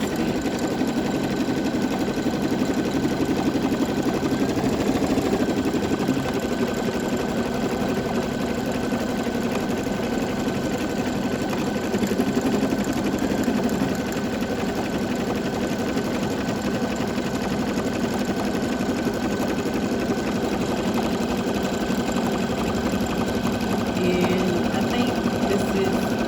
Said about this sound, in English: lay down my applique material so it can be my satin stitch